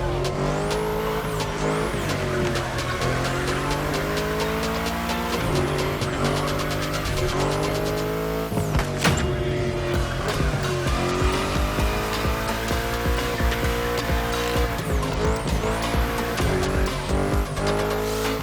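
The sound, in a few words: race car cornering with tire squeal in The Crew Motorfest video game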